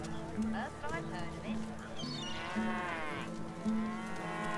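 Cow mooing in the video game Divinity: Original Sin 2, several drawn-out low moos repeating at a steady pace under ongoing character dialogue, with faint hoof clops in the background.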